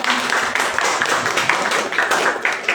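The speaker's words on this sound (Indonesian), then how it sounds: "Tepuk tangan dulu untuk sekolah." A school audience at a teachers' introduction event at MA Uswatun Hasanah Padalarang claps loudly, with dense, continuous overlapping handclaps throughout.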